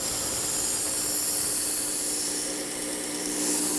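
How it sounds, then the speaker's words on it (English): A knife blade is sharpened on the slack section of a belt grinder, producing a steady, close abrasive hiss and motor hum that holds evenly throughout. "and now we're just going to sharpen."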